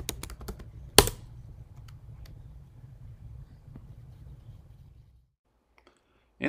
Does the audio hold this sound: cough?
no